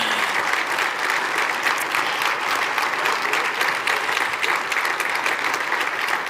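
Sustained applause from a large audience after the performance at the World Economic Forum opening concert in Davos, dense steady clapping that fills the whole stretch without letting up.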